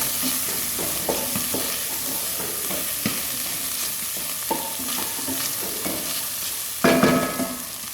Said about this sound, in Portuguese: Então aqui é o bacon e a calabresa que eu coloquei agora. Vou esperar ela dourar um pouquinho.